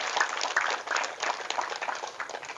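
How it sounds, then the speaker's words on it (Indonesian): Audience applause at a pesantren gathering, a dense, steady wash of many hands clapping together, fairly loud and continuous throughout with no voices over it. "Tepuk tangan."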